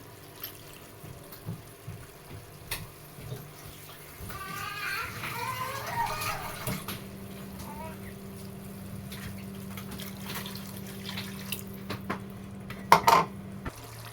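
Water is poured and stirred into a pot of tender jackfruit curry cooking on the stove, giving soft sloshing and clinks, followed by a steady low hum that continues for several seconds.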